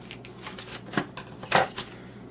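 Scissors cut through paper for a candle lantern in a few quick crisp snips and rustles, close by and fairly quiet.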